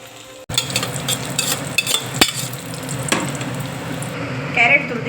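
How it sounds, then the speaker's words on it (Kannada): Cashews and raisins frying in ghee in a pan for carrot halwa, a steady close sizzle with occasional stirring scrapes and clinks throughout. "ಗೋಡಂಬಿ ಹೆಚ್ಚಿಕೊಳ್ಳೋಣ. ತುಪ್ಪದೊಳಗಡೆ ಹಾಕೊಳ್ಳೋಣ. ದ್ರಾಕ್ಷಿ ಹಾಕೊಳ್ಳೋಣ."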